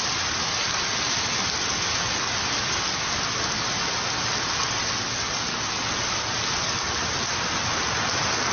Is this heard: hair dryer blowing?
no